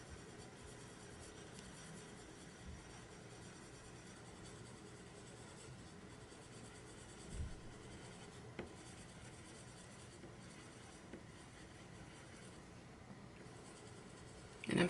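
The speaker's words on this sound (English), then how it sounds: "what I'm really doing is I'm kind of burnishing all these colors together" Colored pencils burnish layered colors on paper, a faint steady rubbing and scratching of strokes, quiet and continuous with a couple of soft knocks.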